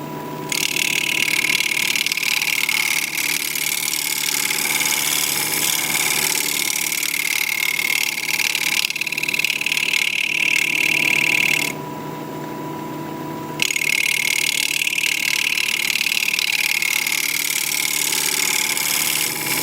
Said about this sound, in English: I'm going to grab a round nose scraper